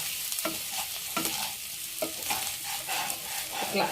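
Paneer biryani masala frying over a low flame, a continuous sizzle broken by repeated scraping stirs of a spoon against the pan at a regular pace.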